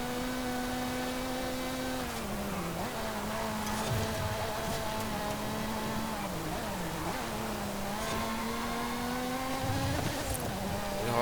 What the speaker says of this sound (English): Its engine is a little bit highly strung for my ears